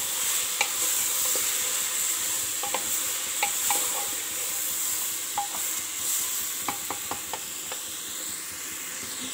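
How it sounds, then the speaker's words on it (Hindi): A spoon clacks and scrapes in short, irregular strokes while spiced mixed-vegetable curry with eggplant fries in a pan, steady sizzling hiss underneath, close and alone. "ଚାଲନ୍ତୁ ଭଲସେ ମିକ୍ସ କରିଦେବା।"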